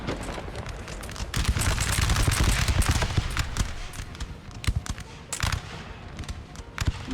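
Artillery and musket fire in a Napoleon Total War battle, a dense, continuous crackle of overlapping shots and booms, some sharp and near, others distant and rolling.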